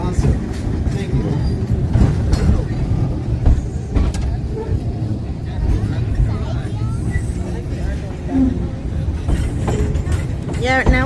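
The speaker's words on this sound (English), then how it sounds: "experiencing the Redwood Forest narrow gauge steam train" A narrow gauge steam train rumbles steadily through a redwood forest with rhythmic clattering and occasional squeals, while people talk over the continuous noise throughout.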